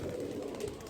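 A single soft, low pigeon coo from a flying pigeon, heard close and alone over a brief moment.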